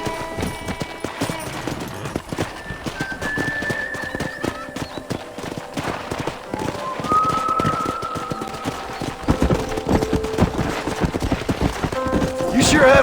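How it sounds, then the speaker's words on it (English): Horse hooves clip-clop steadily through a Red Dead Redemption ranch scene, with an occasional whinny during horse wrangling, mixed under game music and character dialogue. "Let's see if we can't wrangle some horses."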